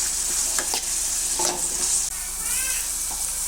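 Maggi noodles with capsicum being stirred in a hot pan, loud steady sizzling with several scraping spoon strokes against the metal, close and continuous with no talk.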